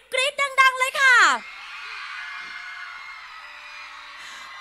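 Shrill screams from cheering fans burst out in a quick cluster of high, piercing shrieks at a Miss Grand Thailand final event in Udon Thani. They stop after about a second, leaving a faint hissing crowd ambience.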